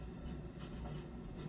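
The ACS-64 electric locomotive pulls a Keystone Service passenger train in the video game Train Sim World 5, giving a faint, steady rumble of rolling rail noise with a soft continuous hum and no talking.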